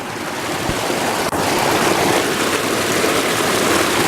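Rushing stream water on a hike to Panamint City ghost town, a loud, steady broadband wash of flowing water close by, with a brief scuff partway through and no talking.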